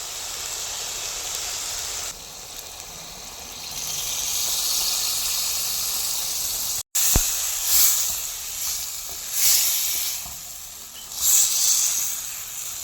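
Ground gongura paste dropped into chicken frying in a pan, heard as a steady close hiss and sizzle that cuts off briefly, then returns in bubbling surges, with no talking.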